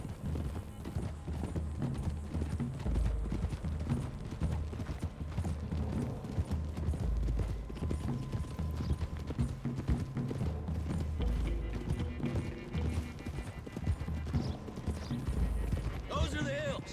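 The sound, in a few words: horses riding, from video game Red Dead Redemption 2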